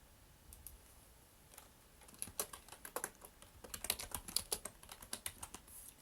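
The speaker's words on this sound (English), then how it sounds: "I'm just typing out the title of this video" Fingers type on a computer keyboard, with quiet scattered clicks at first that build into a busy, uneven stream of crisp keystrokes, close and fairly soft.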